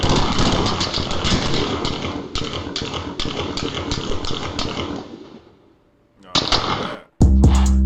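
Gunfire from a recorded street shootout in Memphis: dense, rapid bursts of loud shots that continue for about five seconds, fade out, then two more sharp bursts follow after a brief silence.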